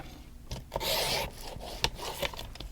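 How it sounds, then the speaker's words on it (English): Scissors slicing through paper for a handmade faith journal page, close rasping cuts in a few uneven strokes, with no talk. "Let's cut it maybe about here."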